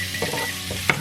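Onions and garlic frying in a pan give a close, steady sizzle with a couple of brief utensil scrapes and clinks.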